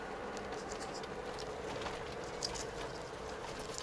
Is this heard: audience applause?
no